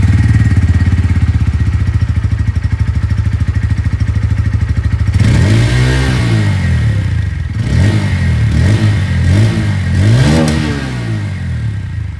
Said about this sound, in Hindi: और मैं सबसे पहले आप लोगों को यहाँ पर N150 की जो आवाज़ है वो सुना दूँ, क्योंकि यहाँ पर आप लोगों को जो अंडरव्हील एग्जॉस्ट है वो देखने में मिलती है।